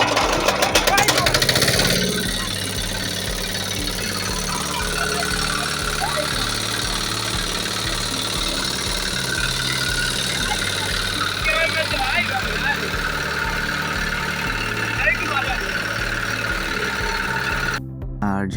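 A 4HP Diamond CDG 8170 small engine, nearly new with only fifteen days of use, starts with a burst of noise and then settles into a steady, thumping idle that runs close and loud, with someone talking over it.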